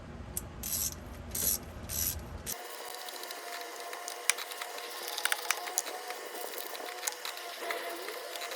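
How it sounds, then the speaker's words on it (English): A ratchet tightening valve cover bolts on a 2008–2013 Nissan Rogue, starting with a few loud clicking strokes, then a long run of rapid close metallic clicks and pawl ticks without talk. "now we can use the ratchet and again start with this one"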